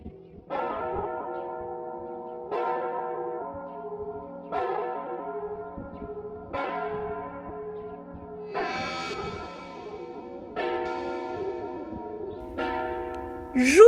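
A deep church bell tolls the hour in a Christmas tale setting, several slow, resonant strikes spaced about two seconds apart, each ringing out with a long echoing decay, heard alone with no talk.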